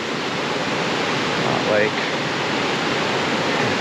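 A forest waterfall on Vancouver Island roars as a loud, steady broadband wash, with a brief voice speaking over it.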